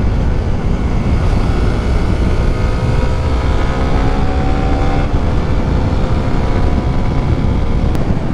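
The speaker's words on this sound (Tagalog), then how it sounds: "Sarap patawin ng motor na to, lalo na siguro kung naka open pipe tayo." A Suzuki Raider motorcycle on the road gives a steady engine drone under heavy wind buffeting, loud and unbroken throughout, with the engine note rising gently in pitch.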